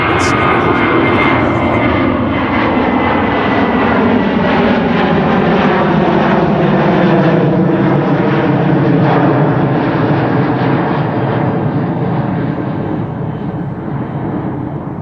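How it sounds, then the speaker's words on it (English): A Transavia airliner on a relocation flight to Eindhoven climbs out of Amsterdam Schiphol Airport with a loud, close, sustained engine roar and layered whine that slowly fades toward the end, with some talk underneath. "Transavia relocation flight to Eindhoven. Already airborne."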